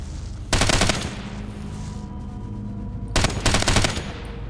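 Enemy gunfire in the tactical shooter game Ghost Recon Advanced Warfighter, heard as two loud bursts of rapid automatic fire separated by a quieter lull with background battle noise.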